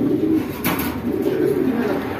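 Pigeons offered for sale as a pair give soft, low repeated coos close by, with a brief sharp noise partway through.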